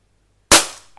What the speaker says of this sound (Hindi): हमने आठ गोली चलाया सारे के सारे इस ब्लैक वाले में